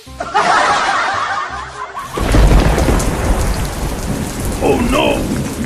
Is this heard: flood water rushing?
no